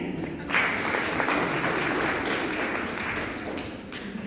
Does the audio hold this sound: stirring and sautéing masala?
no